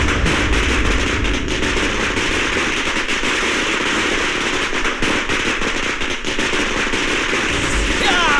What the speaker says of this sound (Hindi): पटाखा बाबू, मैं बात नहीं करता, मेरे पटाखे बात करते हैं।